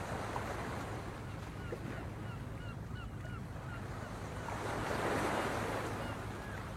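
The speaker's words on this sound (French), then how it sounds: "Écoute la plainte des vagues." Ocean surf washes onto the shore in a steady, broad roar with wind noise, swelling louder toward the end, while faint bird calls sound in the distance.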